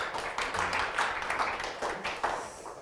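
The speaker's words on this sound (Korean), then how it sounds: "박수 한번 부탁드립니다" Audience applause at a Mannatech opportunity meeting breaks out in a faint, steady patter of many clapping hands for just under three seconds, with no voices over it.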